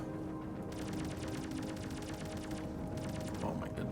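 Missiles fire in the space game Rodina, a rapid rattling volley of sharp repeated bursts over a steady low hum of the ship, fairly quiet, with a brief gap before a second short burst.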